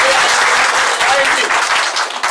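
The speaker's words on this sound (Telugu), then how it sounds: "మీరు గట్టిగా చప్పట్లు కొట్టాలి." A crowd claps loudly in honour of N. T. Rama Rao at a public gathering, sustained dense applause filling the space close and strong throughout.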